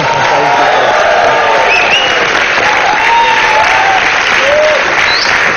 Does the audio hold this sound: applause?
yes